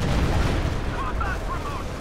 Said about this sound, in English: Stuka firing.